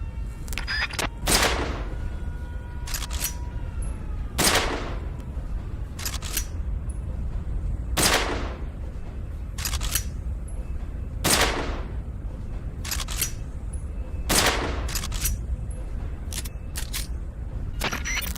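Mosin Nagant bolt-action rifle firing in Metal Gear Solid 3, sharp loud shots spaced a few seconds apart, some in quick pairs, over steady background ambience.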